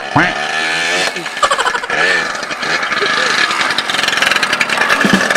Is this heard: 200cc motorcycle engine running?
yes